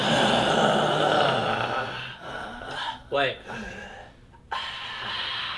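A person imitates heavy breathing and gasping with the voice, a sharp pitched gasp in the middle between bits of casual podcast talk, close and moderately loud.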